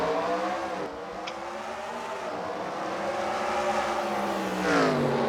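Stock cars in an iRacing Dr. Pepper sim series race roar loudly through the gears, engine pitch climbing and shifting in sweeping harmonic bands, with a brief higher whine near the end and no talk.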